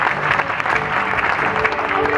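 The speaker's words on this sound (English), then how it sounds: "please give a warm round of applause for our two friends from Disney Toon Studios" Warm applause from an audience at the official opening of a Secret of the Wings ice rink, greeting a Disney Toon Studios director and producer; steady, dense clapping fills the whole moment at moderate loudness with light crowd murmur.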